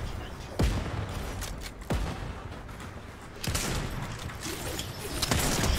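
Sniper rifle shots crack in a shooter video game, four sharp separate reports spaced a second or more apart over a dense, noisy background.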